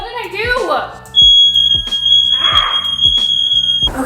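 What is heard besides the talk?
apartment smoke alarm going off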